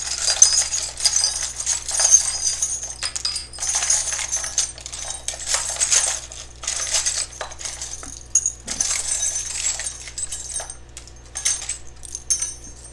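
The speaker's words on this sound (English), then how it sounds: "I don't actually look in here as I shuffle around and get you guys some charms." Small rune charms clink and jangle as they are shuffled by hand, a steady stream of bright metallic tinkling and rattling that runs close and fairly loud without pause, with no voice over it.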